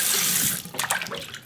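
Running tap water splashing into a sink while chives are rinsed for kimchi, a loud steady rush that then drops to softer, uneven swishing and dripping as the greens are moved about.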